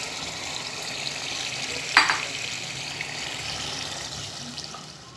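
Chicken in cream fries in a pan with a steady close sizzle and a brief scrape of stirring partway through, no talking.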